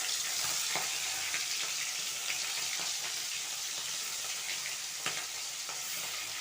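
Prawns sizzle and fry in hot mustard oil in a pan, a steady close crackling hiss with scattered sharper pops, with no talking over it.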